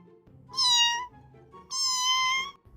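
Two drawn-out cat meows in a Roblox game, each clear and tonal, evenly spaced and close, with a short gap between them and no voices.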